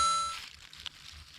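An old 1984 glass cider soda bottle, unearthed intact outdoors, gives a bright clang with a ringing tail, then a softer knock and faint rustling; no voices.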